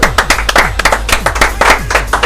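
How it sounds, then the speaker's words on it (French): A studio audience claps to welcome Luc de Granville, president of the Chauny rugby club, onto a comedy news show; loud, close, rhythmic clapping from a small crowd, individual claps sharply distinct. "Merci de l'accueillir sous vos applaudissements"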